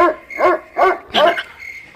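A dog barks three times in quick succession, loud and close, the sharp barks standing alone with no talk over them.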